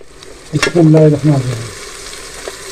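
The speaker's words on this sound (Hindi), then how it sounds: "साथ इसमें हम बीफ डाल देंगे।" Beef dropped into hot masala in a pot, a loud burst of sizzling and stirring that rises suddenly, then settles into a softer steady fry.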